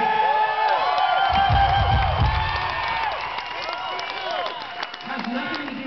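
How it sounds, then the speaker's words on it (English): Applause and cheering from a concert crowd at the Pabst, a dense roar of clapping that swells early and then tapers under ongoing talk. "But thank you for applauding."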